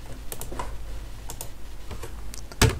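Fingers type a command on a computer keyboard, a sparse run of crisp key clicks at uneven spacing, ending with a single harder, louder keystroke like an Enter press.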